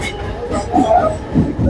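A local commuter train on the Kalyan-side line rumbles and rattles steadily close by, while a person talks over the noise.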